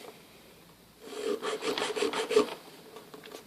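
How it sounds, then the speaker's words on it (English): A hand file rasps across a paper cartridge in a quick run of close strokes lasting about a second and a half, quiet at first and fading back to near silence afterward. "and start filing"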